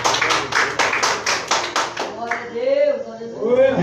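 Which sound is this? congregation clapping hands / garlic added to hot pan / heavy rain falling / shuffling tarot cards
congregation clapping hands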